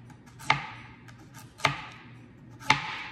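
A knife slices through beets on a cutting board in three distinct, evenly spaced cuts, each a crisp close thunk against the board, with quiet pauses between.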